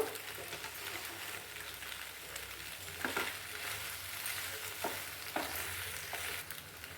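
Spiced macaroni with turmeric being stirred in a hot pan, a steady sizzle and crackle of frying with occasional sharper scrapes of the spoon across the pan.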